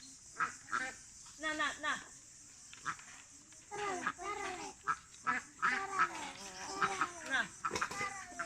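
Domestic ducks quack in short, nasal bursts, several in quick succession and bunched into rough groups, fairly close but quiet overall, over a steady background hiss.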